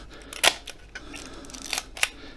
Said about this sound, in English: Nice clean shutter